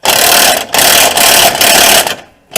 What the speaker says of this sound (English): It's a 15 millimeter, so you're gonna run down with your impact.